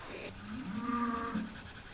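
A person imitates a cow's moo with the voice, one drawn-out lowing call of about a second that wavers in pitch, close and fairly loud over a soft scratch of colouring pencil on paper.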